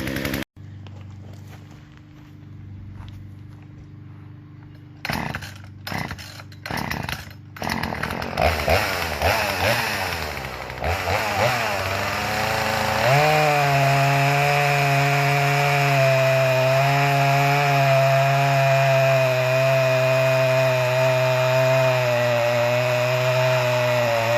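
A Poulan Wild Thing P4018WT chainsaw with a newly replaced carb and fuel lines pulls and sputters through several short bursts, then revs and cuts into hard walnut with a loud, close, sustained bogging whine.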